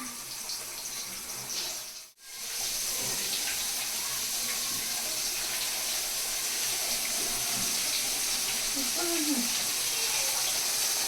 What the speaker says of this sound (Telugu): నా ఫిష్ ఫ్రై అవుతుంది